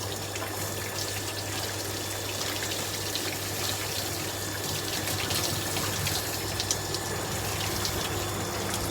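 Steady running water splashes and gushes continuously, close by, rinsing shampoo off a dog during a bath, with a constant low hum underneath and no voices.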